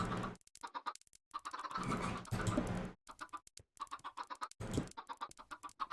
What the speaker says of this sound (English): Get the chickens to go up.